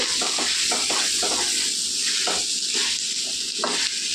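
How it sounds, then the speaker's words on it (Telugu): Carrot and capsicum sautéing in a pan for veg fried rice, a loud, continuous close-up sizzle with a steady hiss and intermittent stirring scrapes, no voices. "కొద్దిగా మగ్గించుకుందామండి మనం కూరగాయలు"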